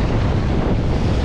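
Wind buffeting the microphone on an inshore sea shore during barracuda spinning, a loud steady rushing roar with no break.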